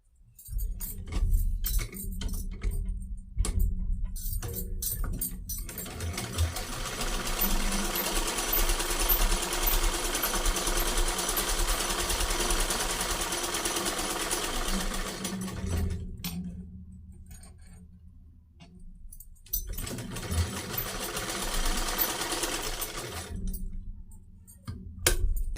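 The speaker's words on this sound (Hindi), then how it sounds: "आधे इंच के गैप में हम इस पे सीधी सिलाई लगा लेंगे" A sewing machine runs a straight seam on a salwar, a steady close mechanical whir lasting several seconds, then stopping and starting again in shorter bursts with light clicks between.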